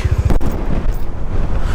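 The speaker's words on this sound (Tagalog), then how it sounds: "Lakas ng hangin." Strong wind buffets the microphone with continuous low rumbling gusts, loud and close throughout.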